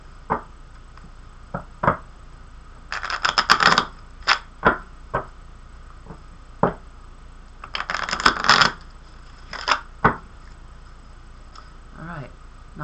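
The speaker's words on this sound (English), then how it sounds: "I'm going to be shuffling 3 times, one for the mind, one for the heart, one for the body" Tarot cards being shuffled by hand, with two bursts of rapid riffling flutter amid scattered single taps and card slaps, close and fairly quiet, with no talking.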